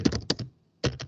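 Typing the ipconfig command on a computer keyboard, a close burst of a few quick key clicks, a brief pause, then another short run of taps.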